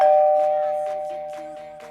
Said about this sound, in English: Someone rang the bell, I went and opened the door.